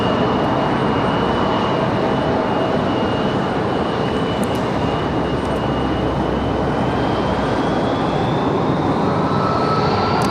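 An Airbus A220-300 airliner arrives at Raleigh-Durham airport with a loud, steady jet roar and a rising engine whine, heard at a fair distance throughout.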